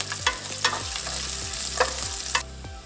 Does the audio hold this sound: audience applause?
no